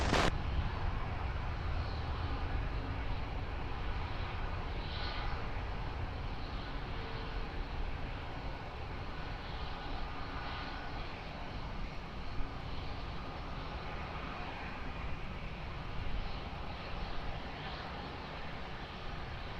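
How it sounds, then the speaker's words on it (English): An Airbus A320 rolls for takeoff on runway 20 at Lisbon Airport, its jet engines producing a distant, steady roar with a broad rumble that holds throughout without speech. "Airbus 320 now rolling"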